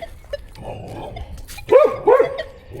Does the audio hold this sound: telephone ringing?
no